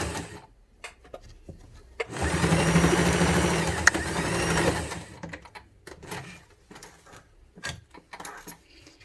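Sewing machine stitching fabric for a milk-carton box case, a loud, close burst of rapid mechanical whirring lasting about three seconds, framed by quieter handling clicks and rustles before and after.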